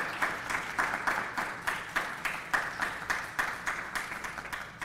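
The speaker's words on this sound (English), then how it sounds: "Yes, you can give them applause." Audience applause at a government agency town hall after cabinet members stand: steady, moderately distant clapping from a sizable crowd, pulsing evenly throughout and heard alone.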